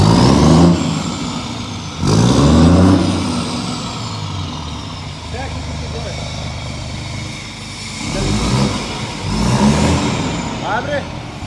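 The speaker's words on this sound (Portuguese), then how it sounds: "É, dá uma aceleradinha. Dá uma acelerada e parada pra nós ver." A new Scania truck engine roars through repeated throttle blips, deep rumbling surges rising and falling between loud revs and idle, close by, with people talking over it.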